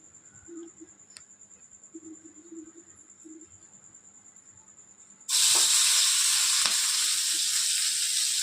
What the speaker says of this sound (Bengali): ভাগে ভাগে ভাজতে হবে, মাছ ভাজতে হবে, বেগুন ভাজতে হবে